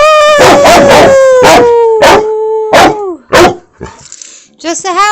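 A puppy howls in a long, sustained, close and loud wail, then breaks into a couple of short barks and whines, with a person speaking alongside the dog.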